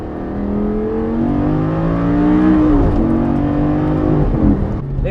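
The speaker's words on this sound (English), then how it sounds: "that glorious V10 engine. That noise." A Lamborghini Gallardo LP550-2's V10 engine revs up loudly and close, its pitch rising steadily then easing and climbing again, alone without talk.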